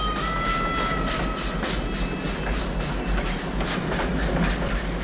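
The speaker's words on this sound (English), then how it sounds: "Here comes the train!" Train from the 1968 western Once Upon a Time in the West rumbling steadily with a deep low drone and rhythmic clatter from the wheels, loud and continuous throughout.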